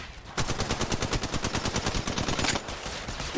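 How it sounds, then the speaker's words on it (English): Rapid automatic gunfire rattles in the video game Apex Legends, a fast, evenly spaced burst of shots that runs for a couple of seconds and then cuts off into quieter game noise. "Getting shot at."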